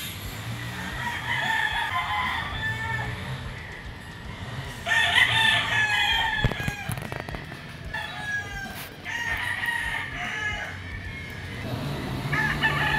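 A pure white Kelso gamefowl rooster crows on a gamefarm, with two or three drawn-out calls rising over a steady bed of outdoor background noise and softer clucking, heard at moderate distance.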